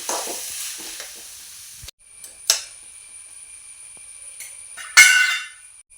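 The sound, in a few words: onions frying and being stirred in a pan for ghee rice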